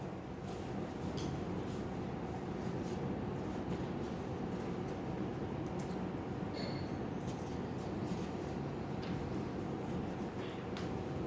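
A train passes, a steady, continuous rumble of wheels on rail lasting several seconds at an even, moderate loudness, with no one talking.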